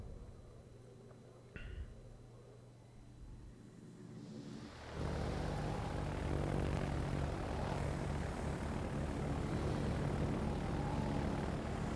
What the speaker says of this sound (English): Now we see Noorg take the torpedo bombers again.